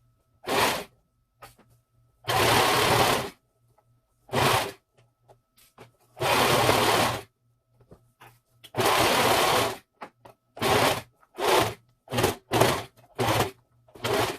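A serger stitching ruffles onto recycled curtain fabric with zigzag stitches, its knife due for replacement; loud close whirring bursts of varied length start and stop repeatedly, with faint hum in the gaps.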